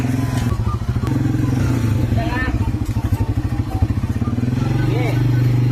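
Motor tricycle engine putting along with a rough, pulsing throb close by, steady and loud, with clattering, while people talk over it.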